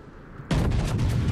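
Naval guns fire in the warship game World of Warships, an abrupt, loud, booming salvo that breaks a quiet stretch and rolls on with rumbling, pulsing echoes.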